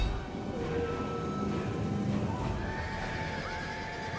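Horses in the ancient-battle strategy game Total War: Rome 2 neigh and whinny over a dense, continuous battle din, with hoof clatter mixed into the steady roar.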